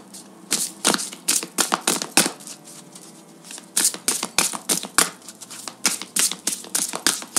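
Oracle cards being gathered and riffled together, a run of quick, crisp flicks and taps in short bursts, close and clear with no talking.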